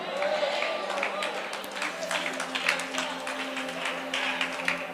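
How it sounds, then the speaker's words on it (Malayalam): A church audience claps for a preacher in a steady, dense patter of many hands, moderately loud and sustained, with voices underneath. "പത്ത് കൈയടി എനിക്ക് കിട്ടി."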